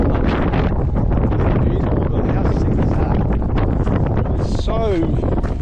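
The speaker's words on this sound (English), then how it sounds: "Oh, I can't even walk, it's so windy." Strong, cold wind roars continuously across a microphone on a high platform above a steep ravine at Horsetail Falls in Tasmania, loud and unbroken, with snow-like conditions; a voice briefly speaks over the gusting buffeting.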